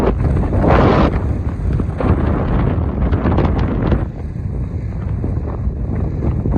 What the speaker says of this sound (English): Check out the wind just blowing on that dune.